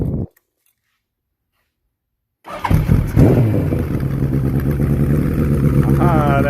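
A restomodded Suzuki GS1000E motorcycle engine, running a little cold, starts after a brief silence and settles into a loud, close, clattery idle with uneven rhythm, while a person talks at the very start.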